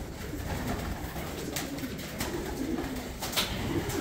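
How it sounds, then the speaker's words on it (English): Racing stock pigeons in a breeding loft, set up in an old carport, coo softly in low repeated murmurs under a steady background hum, with a few light knocks and rustles. "It's my stock birds over there."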